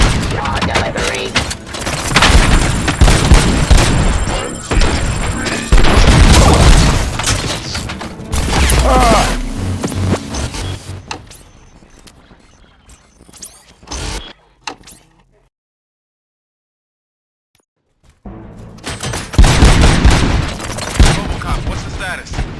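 Gunfire bursts and booms in the RoboCop: Rogue City video game, loud and dense for about ten seconds, thinning out, dropping to near silence, then resuming with more heavy blasts near the end.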